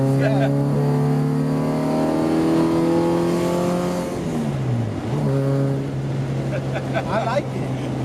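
An H23A-powered Honda Civic accelerates hard in a street pull, its engine revving steadily upward through high RPMs in a loud, sustained climb with a brief dip at a gear change, while occupants talk over it.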